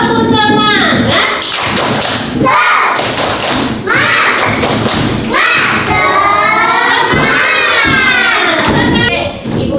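A primary school class doing the 'tepuk semangat' clapping chant, loud rhythmic group claps mixed with children chanting and shouting together in a classroom.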